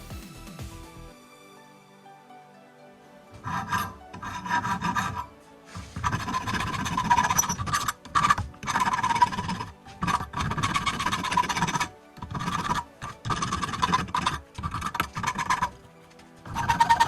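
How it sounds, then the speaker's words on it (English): Wooden board handles made from scrap wood are sanded along their sharp edges, giving repeated close rasping strokes in short bursts separated by brief pauses, loud and alone. "And then we're sanding down all the sharp edges."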